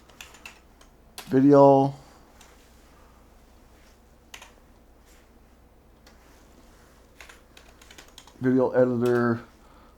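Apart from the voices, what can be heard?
typing on a computer keyboard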